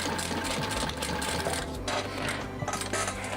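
A sewing machine runs steadily while stitching a floral dino-print water bottle bag, a dense continuous motor whir with rapid needle chatter and brief slowdowns, loud and close, no voices.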